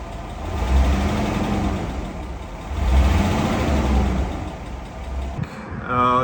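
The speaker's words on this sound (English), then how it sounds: "it really started doing this clunking valve noise" A Nissan Skyline R34 engine with valve lifter gaps out of spec runs close by with a clunking valve noise, idling steadily with a mild rise and fall in its drone.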